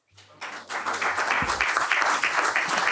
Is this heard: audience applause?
yes